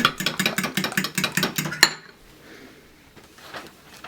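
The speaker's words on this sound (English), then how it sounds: "Whisk the 3 eggs lightly with a fork and then add in the vanilla." Three eggs beaten lightly with a fork in a bowl for pecan pie filling, a fast rhythmic clinking and tapping for about two seconds, close and distinct, then fading to quiet room sound.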